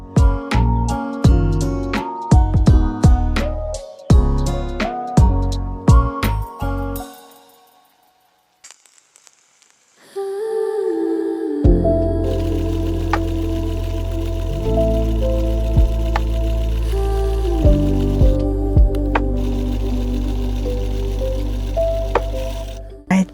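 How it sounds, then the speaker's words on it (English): A sewing machine top stitches around a handmade fabric tote bag in loud, rhythmic bursts of stitching, stopping for a short quiet pause and then running again in a long steady stretch. "I basically just did the final step, which was top stitching around the bag."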